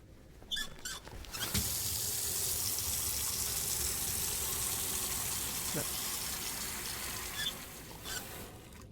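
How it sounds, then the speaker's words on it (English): In the Autopsy Simulator video game, lungs are lowered into a container of water, giving a sustained close watery gush and splash with a few brief sharp clicks at the start and end. "I have to place the lungs in a container of water."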